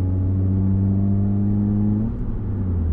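Steady engine drone heard from inside a car fitted with new coilovers, held at a fairly loud, even level as it speeds through a turn, with a slight dip near the end and no talking.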